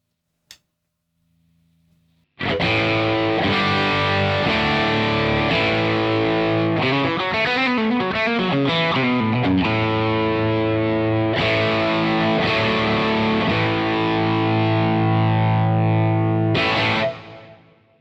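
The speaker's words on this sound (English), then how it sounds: "Let's hear how it sounds if we drive the preamp." Guitar through a TWS 2864-S amp with the preamp fully driven, a brief click and quiet note before a loud, sustained, gritty riff with a tight low end runs for about fifteen seconds and then stops; no voices.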